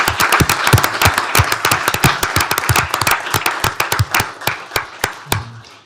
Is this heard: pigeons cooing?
no